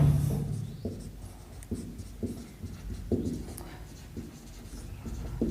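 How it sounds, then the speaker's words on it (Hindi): Chalk or marker strokes on a classroom board during a medical entrance lecture, a series of short scratchy taps and drags at a steady pace, fairly quiet, with a teacher's voice now and then. "मैं देखो यहां पे लिख देता हूं,"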